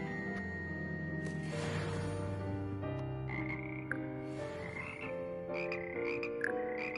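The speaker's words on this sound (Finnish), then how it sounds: "Kurnuttaa." Frogs croak in Hogwarts Legacy, a dense chorus of resonant, pitched croaks layered over one another, loud and continuous with sharper calls toward the end.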